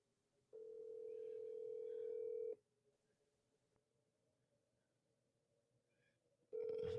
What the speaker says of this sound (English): I called Cody 3 times, right? He didn't answer the phone